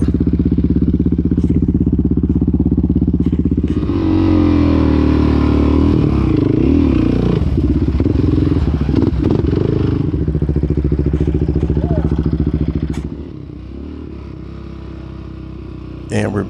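A 350-pound ATV engine idling loudly and roughly up close, with a rattly, uneven rumble and clatter before it cuts out near the end.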